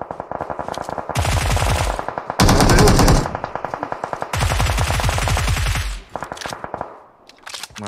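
Automatic gunfire in the mobile battle royale game PUBG Mobile rattles in loud rapid bursts, several strings of fast shots separated by brief pauses, with a heavier burst in the middle and no talk.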